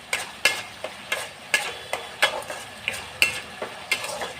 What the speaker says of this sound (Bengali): মশলাটাকে ভালো করে নাড়াচাড়া করতে হবে যতক্ষণ না তেল ছাড়ে।